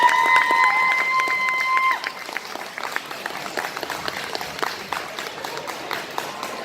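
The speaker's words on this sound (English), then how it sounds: "So big round of applause for Witch Mercy," Applause from an audience at a cosplay competition, scattered clapping continuing steadily after a tonal beeping sound fades out early on.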